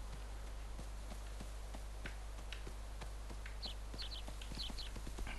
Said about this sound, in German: Wir reiten mal ein bisschen schneller